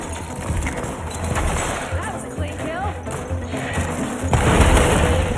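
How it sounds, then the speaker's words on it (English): A bomb goes off in the zombie VR shooter After the Fall: a broad, booming burst late on, over constant game noise and excited voices talking throughout. "Did you just throw a bomb?"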